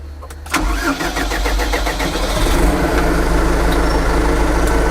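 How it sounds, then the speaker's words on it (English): A tractor engine cranks and catches about half a second in, then settles into a steady, loud, low idle that continues to the end. "So now we have to turn on and start the engine."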